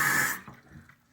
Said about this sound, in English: So I'm just going to put it right here and pour the water over into it.